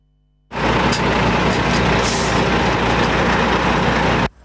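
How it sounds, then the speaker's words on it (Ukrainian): A heavy truck pulls onto an automatic weighing station, its loud diesel engine rumbling and roaring with hissing bursts over a steady drone, starting abruptly after a quiet moment and then cutting off at the end. "Ось так вантажівка заїжджає на автоматичний пункт зважування"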